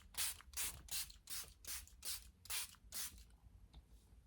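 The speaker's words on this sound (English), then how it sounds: "So I'm gonna do my setting spray" Setting spray mists onto a face in short, close hissing bursts, about eight in an even rhythm, then quiet.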